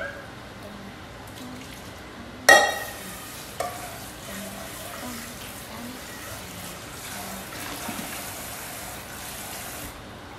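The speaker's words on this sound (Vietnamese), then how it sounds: "Giờ mình bắt đầu mình quay xào tỏi nè." Garlic being stir-fried in a pan while cooking lobster and crab, a sharp hiss as it hits the oil, then a steady low sizzle with occasional scrapes of stirring.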